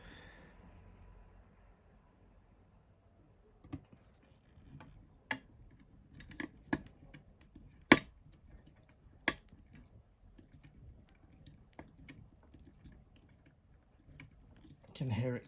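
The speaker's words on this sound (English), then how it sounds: "You can hear it clicking in place." Screws click into place while the hood frame is fastened to the hood of a 1:8 scale Back to the Future DeLorean model. Sharp, isolated clicks and small taps come at irregular intervals over a quiet, faint background.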